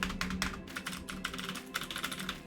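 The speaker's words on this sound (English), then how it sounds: "as a streamer, having a mechanical keyboard is both a blessing and a curse" Rapid, steady clicking of keys on a clicky mechanical keyboard, close and fairly loud, with dense bursts of keystrokes running continuously and no talking.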